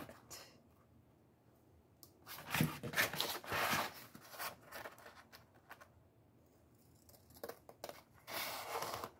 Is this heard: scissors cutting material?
yes